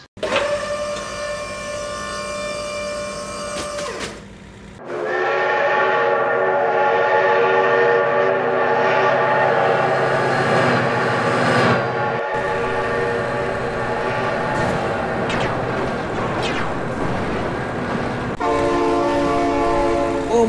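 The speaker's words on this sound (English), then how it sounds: "Oh my God, train!" A train in the BeamNG.Drive driving game rumbles steadily and close for about twenty seconds, with long, loud horn blasts sounding over the heavy rolling noise.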